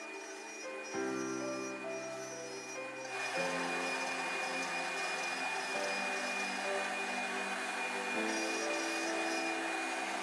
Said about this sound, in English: here's what those operations look like when run on a CNC